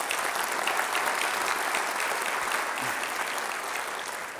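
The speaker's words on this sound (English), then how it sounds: "Let's give them all a big round of applause." An audience at a mayor's development forum in Long Beach applauds steadily, a dense wash of many hands clapping that holds strong and then begins to fade slightly.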